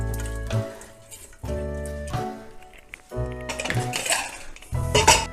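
A spoon stirs country chicken for a chicken thoran in a metal cooking pot, giving bursts of clanking and scraping metal with short pauses between them, close by and fairly loud.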